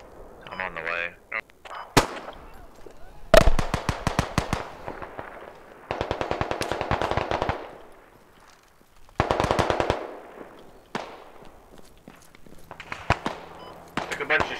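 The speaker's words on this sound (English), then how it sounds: "Shots crossing the highway" Bursts of automatic gunfire and single shots in a military combat game, crackling rapid volleys in several clusters at varying distances, with a voice speaking in between.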